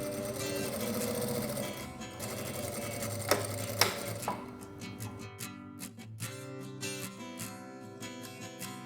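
A domestic sewing machine stitches the side seams of a fabric absorbent pad holder, a close steady mechanical whir that slows into short uneven bursts of stitching with light clicks.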